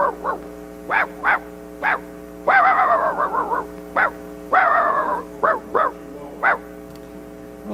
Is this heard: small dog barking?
yes